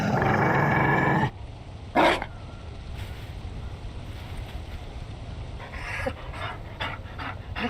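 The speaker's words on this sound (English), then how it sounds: "You found a dog?" In a fantasy role-playing game, a Mabari war dog pants and gives low growls at moderate volume, with short bursts of game sound around it.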